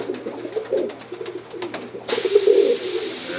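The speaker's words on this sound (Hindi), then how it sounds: "बड़े बड़े उस्तादों के कबूतर हैं जी" Fancy pigeons, including Teddy and golden breeds, coo softly at close range, low murmuring calls repeating, before a sudden loud hiss-like broadband noise takes over.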